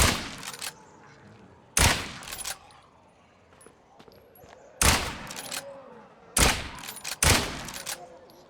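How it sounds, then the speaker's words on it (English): Rapid shots from precision weapons in the State of Decay 2 video game, five loud sharp cracks spaced irregularly over a quiet background, each with a short decaying tail. "look how fast those shots were"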